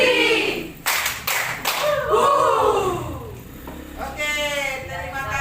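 A group claps together on a count, short sharp bursts of a few synchronized claps spaced between spoken voices.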